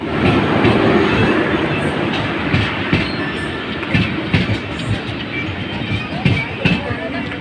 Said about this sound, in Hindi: अब हमारे आ चुकी है ये ट्रेन वीरभूमि एक्सप्रेस।